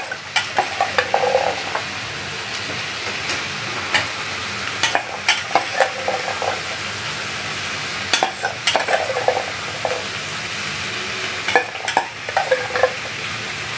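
Beetroot pieces fry and get stirred in a pan for a potato curry, a continuous loud sizzle with repeated scraping and clinking strokes of a spatula against the pan at an irregular pace.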